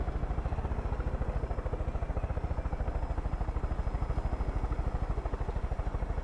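A helicopter in the video game Far Cry 5 flies with a loud, steady, rapid rotor chop and engine drone, continuous throughout with no voices.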